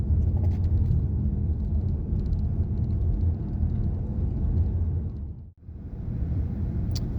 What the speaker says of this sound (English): A really interesting car to drive. The Skoda Superb.